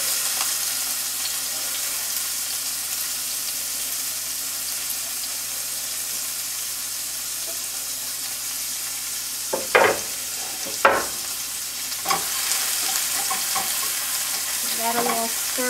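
Red pepper frying in a pan for a dandelion stir fry, a steady close sizzle running throughout with a few sharp scraping clatters and stirring knocks near the end.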